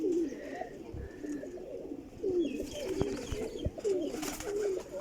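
A pigeon coos close by in a repeated rolling pattern, several soft throaty calls across a few seconds, with faint chirps and light knocks in the background.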